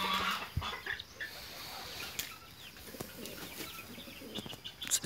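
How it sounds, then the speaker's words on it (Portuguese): Young chicks peep softly indoors, with scattered faint chirps throughout and no speech over them. "Esses pintinhos aqui"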